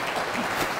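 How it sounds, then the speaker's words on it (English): A dinner audience at an investor event claps for a presenter, a short burst of soft, steady applause heard from within the room. "Round of applause for Ray."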